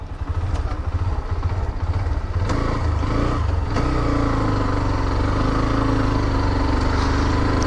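A motorcycle taxi with a passenger aboard pulls away, its engine a loud close steady drone with rising revs, no talk heard.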